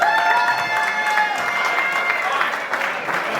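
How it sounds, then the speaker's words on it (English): A crowd at a golf fundraiser and award presentation gives Tony a big, steady round of applause, dense and loud throughout, with cheering mixed into the clapping. "we should probably give Tony a big round of applause too"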